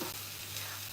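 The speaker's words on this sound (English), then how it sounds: "I'm just looking at my frying pan." Food sizzles in a frying pan with a steady, faint hiss and crackle, continuous and unbroken through the moment.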